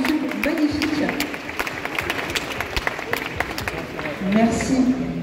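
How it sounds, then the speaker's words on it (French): A crowd at the Paris Games Week 2023 cosplay championship applauds a cosplayer, a steady bed of many hands clapping with sharp individual claps standing out, while a presenter's voice speaks over it near the start and end. "Est-ce qu'on peut l'applaudir bien fort, s'il vous plaît?"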